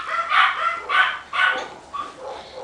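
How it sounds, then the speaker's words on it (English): Several dogs bark at home in a short burst of about four close, loud barks and yips, followed by fainter whimpering, with no talk. "Listen to my dogs."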